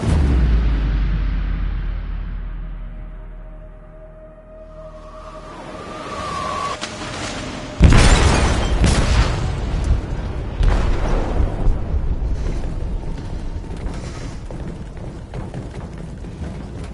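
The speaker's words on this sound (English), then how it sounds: "They detonated an explosive in the hold." An explosive detonates inside a ship's hold in Detroit: Become Human, a sudden loud boom that follows a fading rumble, then leaves a long roaring, crackling aftermath of debris and groaning metal.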